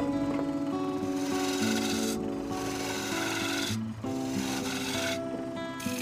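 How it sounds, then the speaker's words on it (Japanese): A wooden bowl blank for Echizen lacquerware turns on a lathe while sandpaper rubs against it, making a continuous raspy friction with a steady hum, briefly interrupted twice, with no talking. "サンドペーパーで仕上げます。"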